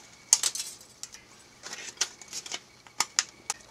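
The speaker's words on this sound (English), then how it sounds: "So I just take them and I cut around with my scissors." Scissors cut around thin metal embossing sheets for a crafting project, giving irregular crisp snips and light metallic crinkles in small clusters, close and fairly quiet with no talk.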